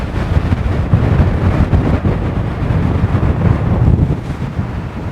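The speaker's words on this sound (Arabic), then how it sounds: "ادي البحر اهو." Wind sweeping the winter Mediterranean shore at Matrouh buffets the microphone in loud, gusting rumbles, with the sea's surf blurred into the steady, close roar.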